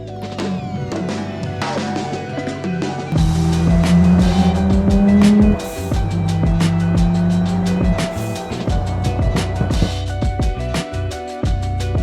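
A Nissan Skyline R34 GTR engine revs and pulls away nearby, the tone rising through gears with loud, rough exhaust and clicking mechanical noises.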